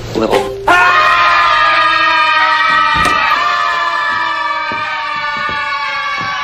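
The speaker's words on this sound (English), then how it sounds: "We call it the rebel yell. Sort of a group primal scream." Prison inmates let out a loud collective yell, many voices merging into long, wavering, siren-like tones that hold steadily for several seconds after a sudden start.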